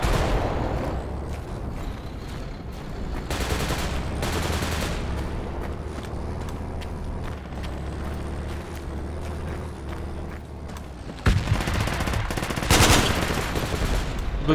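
Machine gun fire in a video game rattles on steadily with dense, continuous bursts over a low rumble of battle, swelling into louder, sharper volleys near the end.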